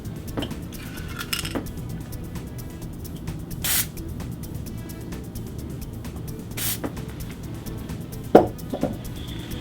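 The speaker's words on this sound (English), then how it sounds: "You now want to put a little bit of a lubricant right through this hole." Lubricant is sprayed into a bicycle's cable housing in short hissing bursts against a background of faint metallic clinks and light handling noise.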